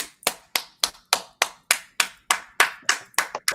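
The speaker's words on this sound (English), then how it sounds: "y'all better clap for Auntie" A single person claps hands at a steady, even rhythm, about a dozen sharp, close claps in a row with nothing else around them.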